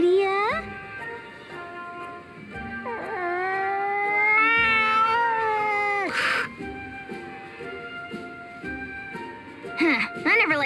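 A cat in the video game Bravely Second gives long, drawn-out wailing meows, fairly loud and up close, alternating with a character's speech.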